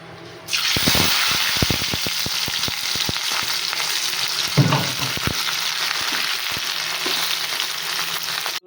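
Green beans sizzle loudly in hot oil in a pan as they are stirred, with steady frying crackle and repeated clinks and scrapes of a spoon against the pan throughout.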